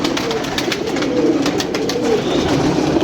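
Captured pigeons cooing and fluttering close by in a Punjab setting, a steady dense layer of soft coos and rustling with no talk.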